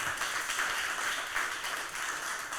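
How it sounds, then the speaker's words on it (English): Audience claps continuously at a Mombasa community forum on local politics, a brief unbroken patter of many hands at middling loudness. "A round of applause to the Abutieno"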